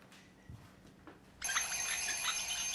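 A telephone starts ringing partway through, a bright, continuous bell trill that sets in abruptly and keeps going, moderately loud, after a couple of faint soft thumps in a quiet room.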